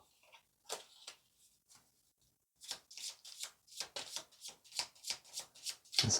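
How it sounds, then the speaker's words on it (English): A tarot deck is shuffled by hand in quiet, close riffs, with sparse soft card flicks at first and then a quick run of crisp, rhythmic bursts. "This is why I don't shuffle on camera,"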